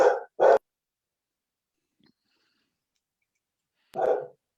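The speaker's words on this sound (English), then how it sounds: "we got a dog too" A dog barks nearby during an online meeting, two quick sharp barks, a long silence, then one more bark, loud and close with no talk over them.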